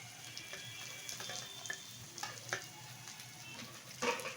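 Chopped carrots, beans and green chillies fry in oil for a chicken chopper, making a soft, continuous sizzle punctuated by intermittent clicks and scrapes of stirring.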